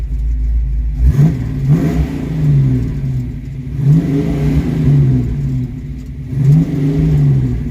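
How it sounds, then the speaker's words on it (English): A Ford Mustang's engine over-revs repeatedly, rising and falling in pitch in several loud surges, close by with no talking. "Now maybe I'll quit over revving this thing."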